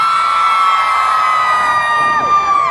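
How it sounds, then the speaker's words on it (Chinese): A huge outdoor concert crowd of about 100,000 screams and cheers in one sustained, loud roar of high-pitched voices with no pause, at a windy Christmas show in Houlong. "我来听一下你们的尖叫声一下吧"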